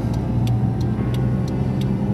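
A Daewoo Tico rolls along with a steady low engine and road drone heard from inside, while a faint ticking repeats at an even pace above it.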